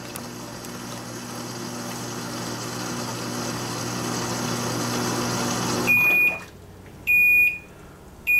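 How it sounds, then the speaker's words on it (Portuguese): Panasonic 18 kg titanium washing machine (NA-F180P7T) sounding its end-of-cycle signal: a steady mechanical hum drops away, then a few loud, clear electronic beeps ring out alone, spaced about a second apart. "Esses bips aí de fim de ciclo."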